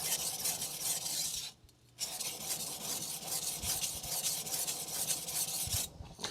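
A Shirogami 2 nakiri knife being deburred on a Shapton Glass 500 whetstone, a continuous close, gritty rasping stroke that pauses briefly twice, with no voices.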